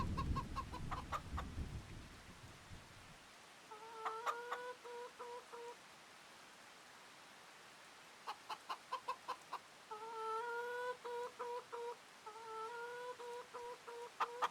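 Chickens in a farming sim game give short clucks and rhythmic bursts of pecking taps, repeated several times over a quiet backdrop after a brief rumble at the start.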